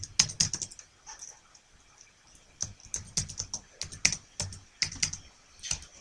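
Keys clatter on a computer keyboard close by in quick bursts of taps, with a short quiet gap after the opening flurry before typing resumes in uneven clusters.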